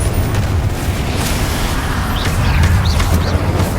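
A Confringo fire spell exploding in Hogwarts Legacy, a dense continuous roar of blasts and rumbling fire filling the space, loud and close, with faint whooshing sparks on top and no talking.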